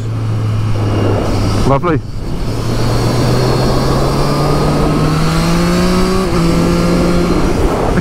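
A 2023 Triumph Street Triple 765 RS engine drones steadily and loud throughout while riding, with its pitch rising gradually; a brief whoosh cuts in near the two-second mark and a rider speaks a word over the engine.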